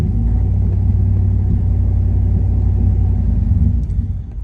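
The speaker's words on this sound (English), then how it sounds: "let me blip the throttle and show you how the timing smooths out" Chevrolet Silverado V8 with a ghost cam tune, heard close and loud as a heavy, steady low-pitched idle rumble, easing off slightly at the end, with no talking.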